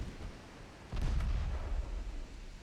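A torpedo strikes a warship in a naval strategy game, set in an 1895 Ottoman campaign battle off Crete. A low muffled boom lands about a second in, followed by a rolling, rumbling tail over steady background noise.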